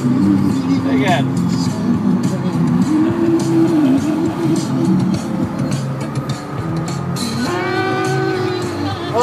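Cars cruise past on a road in a close, loud, steady engine rumble, with engine pitch rising as vehicles pass, while people talk over it.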